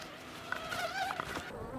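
Honey bees from a small, weak hive of barely three frames buzz softly nearby, a faint wavering drone with individual bees passing close to the microphone.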